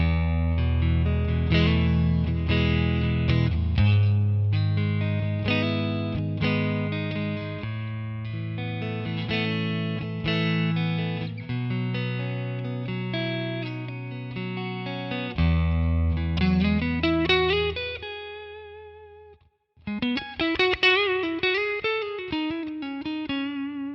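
Electric guitar played through an Amalgam Two Rock OD100 Tonex model on a clean balanced setting, sustained chords and single notes ringing with light effects, a short pause, then a sliding lead phrase, alone without talk.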